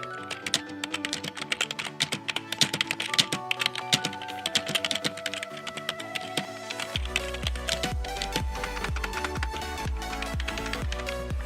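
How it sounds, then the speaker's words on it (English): Rapid clicking of keys on a Fantech K611L Fighter gaming keyboard, steady and continuous up close, with the keystrokes shifting to a slightly deeper, softer tone partway through. "we're going to do a quick keyboard test on it so that you can hear the sound"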